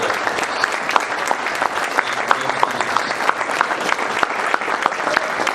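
Audience applause at a meet-the-candidates event for Democrats running for Maine governor, a steady, dense clapping from a crowd that holds evenly throughout with no voices over it.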